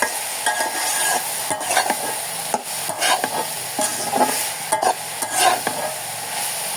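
Chopped vegetables stir-fried with chili and coriander in a pan: a steady close sizzle, broken by repeated scraping strokes of the spatula against the metal.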